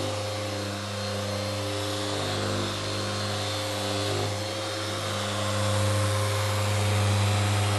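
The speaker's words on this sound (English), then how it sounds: "Ken, fire up the grinder." A grinder runs steadily the whole time, a loud, even motor whine with a strong tonal hum and a broad hiss above it, close to the microphone with no voices.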